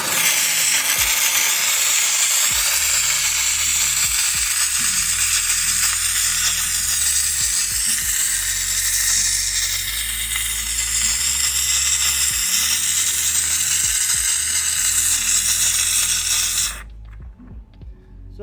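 McCulloch MC1385 steam cleaner blasting an engine oil cap, a loud continuous hiss with low rattling underneath that cuts off abruptly near the end, leaving near silence.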